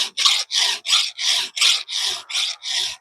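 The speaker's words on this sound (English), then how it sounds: "filing out the gullet, and I'm filing back until I see the file drag across the leading edge" A hand file rasps against a damaged chainsaw chain tooth, cutting out the gullet and undercutting the tooth, in nine steady, evenly spaced strokes that sound close and fairly loud with no talk.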